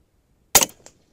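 A single sharp, close gunshot from a Rattler .357 firing a 119-grain Mr. Hollow Point slug, a brief loud crack with a short decaying tail, alone in otherwise quiet surroundings.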